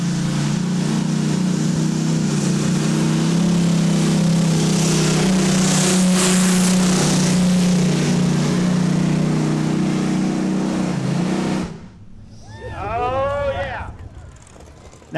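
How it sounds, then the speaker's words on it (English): The River Rat puller tractor from Cambridge, Iowa, running a European-type engine at a tractor pull, roars loudly and continuously at full throttle for about twelve seconds, then abruptly cuts off, leaving fainter whining sweeps behind. "You will see these tractors run in Europe, or these engines."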